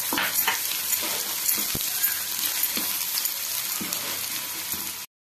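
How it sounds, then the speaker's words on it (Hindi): Chopped garlic and ginger frying in oil, a bright continuous sizzle with light crackles and occasional stirring knocks, close and steady until it cuts off abruptly. "सेथिरे कटा रसुण आ कटा अदा को देई भाजी नेबा"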